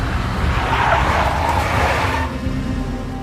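A big black Mercedes skids in the Max Payne video game, giving a loud, sustained tire squeal over a roaring engine. It stays close and continuous, then eases slightly toward the end.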